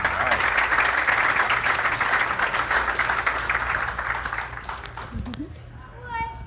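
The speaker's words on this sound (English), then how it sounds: "Can we give them a round of applause?" An audience gives a round of applause at a dressed-up event, loud and dense at first, then thinning out over several seconds as a voice begins talking near the end.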